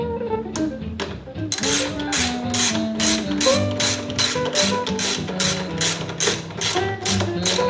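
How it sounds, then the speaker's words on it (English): A hand ratchet clicks rapidly and evenly while tightening a bolt on a Honda CX500 motorcycle, close and crisp, with a few slower clicks at the start before a long fast run. "let's see what I can do to get this bolt on down here"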